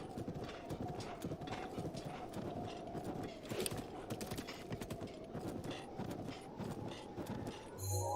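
Horses galloping away in the video game Zelda: Breath of the Wild, a steady run of rapid hoofbeat clip-clops, fairly quiet, with no talking.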